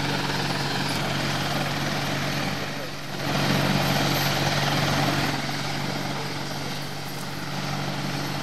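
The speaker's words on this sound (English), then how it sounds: "I can't hear you because of that fucking Apache over there" An Apache helicopter's rotor drone in a video game fills the whole stretch, steady and loud, with a brief dip before swelling back; muffled voices sit faintly underneath.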